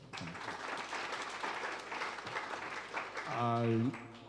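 Applause from the audience at a proprietors' and principals' conference, a steady crowd clapping throughout, with a voice rising over it near the end.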